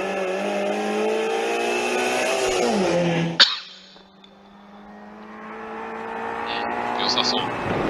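Rally car at TGR Rally Shibukawa, Ikaho SS2 stage, accelerating hard with a loud, steady engine note that drops sharply mid-pass as it moves off, then builds again in the distance.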